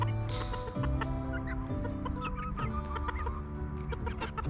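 Several chickens cluck and murmur nearby in a steady, overlapping chorus, with a few sharper calls breaking through.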